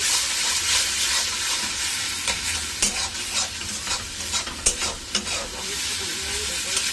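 Thick gravy paste with cashews and melon seeds stir-fried in a pan, with a steady close sizzle and sharp scraping strokes of the spoon scattered through it.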